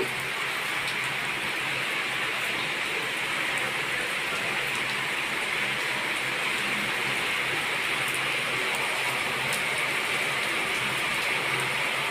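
Heavy afternoon rain pours down in a steady, dense wash of noise that stays even and close throughout, with no voices.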